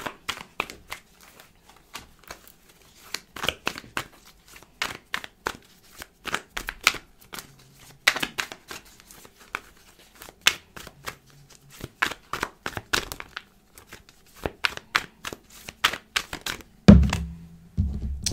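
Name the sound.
shuffling tarot cards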